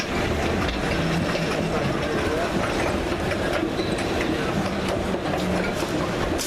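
A train on the East Lancs Railway rumbles and clatters steadily as it pulls into Piccadilly station, with a voice talking over the noise.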